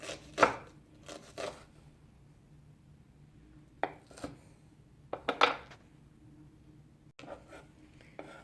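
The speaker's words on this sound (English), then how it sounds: "onion to be chopped" A knife chops an onion on a cutting board in quiet, scattered strokes: a couple of quick pairs of cuts, a pause, then several more sharp taps.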